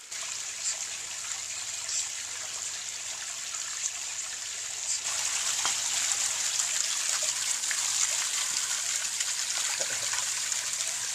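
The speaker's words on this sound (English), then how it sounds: "now we have a test of the pump and the waterfall location and the cascade itself" Water cascading down a homemade garden water feature waterfall during a pump test, a steady hissing trickle and splash that grows a little louder and fuller partway through, with no voices.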